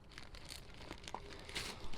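Plastic bags crinkle and rustle softly in close, irregular bursts while a Garrett AT Max metal detector is being unboxed.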